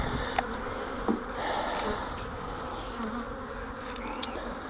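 Honeybees buzz around an open hive, with a faint, continuous hum and occasional louder individual bees passing close by.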